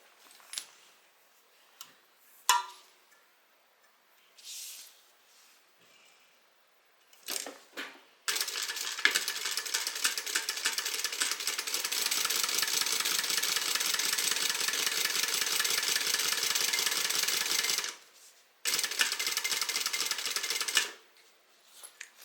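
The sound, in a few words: sewing machine stitching fabric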